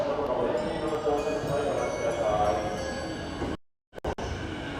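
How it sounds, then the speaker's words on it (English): A Tokyo JR Yamanote Line train approaches at night, rumbling and rattling nearby in a broad steady roar that drops out abruptly near the end, followed by a few sharp clinks. "So the train is coming this direction, going towards Ebisu."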